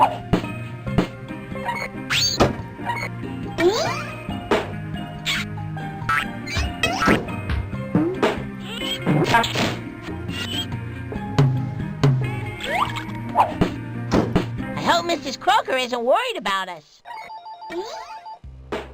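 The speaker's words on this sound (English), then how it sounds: "That's just the phone ringing." A telephone rings repeatedly in the Freddi Fish 2 video game, chiming bursts layered among cartoon sound effects and music, while characters talk throughout.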